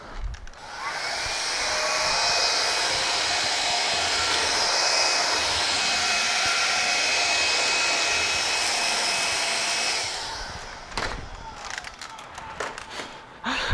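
A Hoover cordless stick vacuum runs with a steady high whine and airy rush for about ten seconds, then cuts off, leaving a few clicks and handling knocks.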